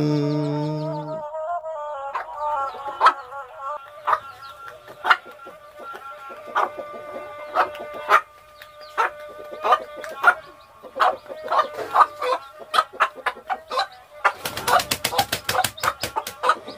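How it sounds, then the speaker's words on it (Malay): A rooster clucking repeatedly in short, uneven bursts over a sung melody, with a louder flurry of clucks near the end. "Bak itu parangai ayam jantan."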